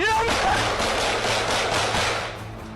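An agent fires a gun in bodycam footage, giving a rapid string of loud, close bangs that blur into one steady roar before easing off at the end.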